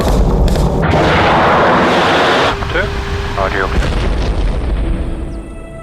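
Artillery fire called in to support British troops holding ground in Helmand, Afghanistan, heard as a loud, sustained booming rumble with a dense low roar that eases partway through, with no talk over it.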